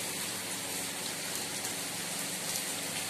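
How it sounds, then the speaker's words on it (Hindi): Rain falls steadily on a village courtyard, a dense, even hiss of drops with no breaks, heard alone. "बारिश हो रही है"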